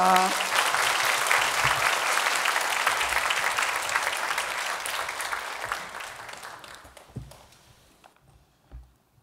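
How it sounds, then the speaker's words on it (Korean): Church congregation at a Korean Sunday worship service applauding to welcome a pastor to the pulpit, a full steady burst of clapping that gradually thins and dies away, leaving a few scattered claps and footsteps. "우리 박수로 환영하겠습니다."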